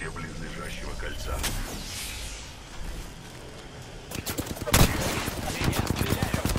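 Rapid bursts of gunfire in Apex Legends crackle close and loud, thickening into dense repeated shots toward the end, with a voice speaking over the earlier part.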